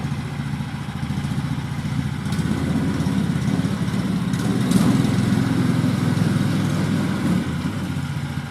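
A Lifan 18 hp engine runs steadily on a homemade all-terrain vehicle, giving a continuous low mechanical drone with faint clatter, fairly close and at an even level throughout, with no talking.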